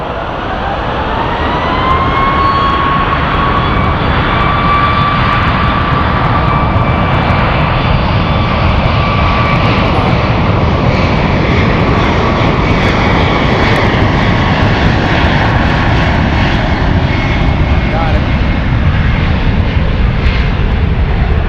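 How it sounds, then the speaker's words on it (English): Emirates flight 225, a jet airliner arriving at San Francisco airport, roars steadily and loudly throughout with a rising whine of engine tones, heard from a distance with no voices. "Far away still, Emirates 225 coming in"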